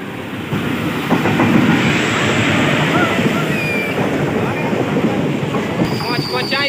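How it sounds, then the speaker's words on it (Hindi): A train pulling into a railway station, a loud continuous rumble of wheels on rails with squealing and clatter, steady and close throughout, ending with a brief high-pitched squeal. "सो गाइस ये रहा ट्रेन जो कि अभी आ रहा है स्टेशन पर"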